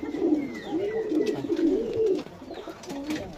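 Pigeons of several breeds coo in a domestic loft, a steady run of low, rolling throaty calls close by, with faint chirps and rustling in the background and no talking.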